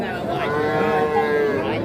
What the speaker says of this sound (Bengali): এই পাশে আমরা দেখছি ষাঁড় বাচ্চা।